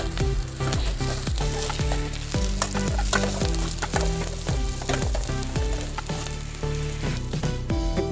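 Curry leaves and beans fry in hot oil for jeera rice, a dense, continuous sizzle broken by repeated scraping stir strokes in a steady rhythm, loud and close with no voices.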